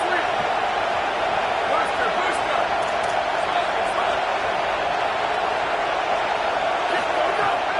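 Steady, dense roar of a stadium crowd in a college football video game, Colorado against Virginia Tech, holding at a constant loud level throughout with faint scattered shouts.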